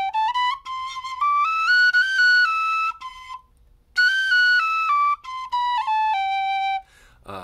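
Tin whistle played alone with an alternate fingering, clear melodic phrases of stepwise notes rising and falling, with a brief pause midway and a short break at the end.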